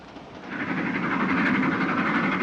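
Interior of a moving 1940s British passenger train carriage on an express run toward Rugby, with a steady rolling rumble and rail noise building after the first half second and holding loud and even throughout, no voices.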